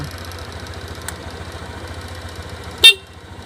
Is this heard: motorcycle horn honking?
yes